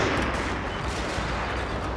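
Dense massed rifle and artillery fire in a Fall of the Samurai battle, a continuous rumbling roar of overlapping shots with no pauses.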